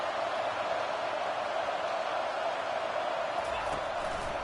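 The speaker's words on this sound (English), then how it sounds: "This crowd bringing the energy and noise early." Crowd noise at an American football game against Georgia, a steady, dense stadium roar held at an even level throughout, with indistinct voices mixed in.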